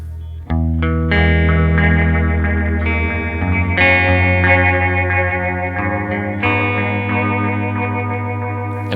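An electric guitar plays through a Red Witch Titan pedal with its vibrato speed turned up. Ringing chords and notes wobble with a chorus-like shimmer and slight grit, loud and close, with no talking.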